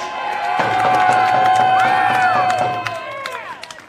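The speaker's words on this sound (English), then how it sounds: "Can we give him a round of applause?" Crowd at an outdoor political rally in downtown Phoenix giving a round of applause, with cheering and whoops riding over scattered clapping and a swelling, then fading, mass of voices.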